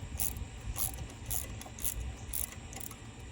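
A ratchet loosens coil pack bolts on a Ford Explorer, making a soft, regular clicking in about six evenly spaced strokes over a low background hum.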